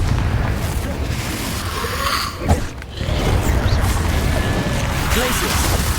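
Repeated Confringo fire spells in Hogwarts Legacy burst in a fast combat exchange, with booming impacts and crashes over a dense background of battle noise, and a sharp hit standing out midway.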